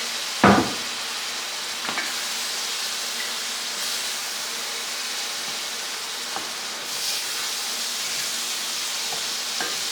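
Vegetables sizzle in a pan as their liquid cooks off, giving a steady hiss with a sharp clatter at the start and a few faint knocks and stirs scattered through.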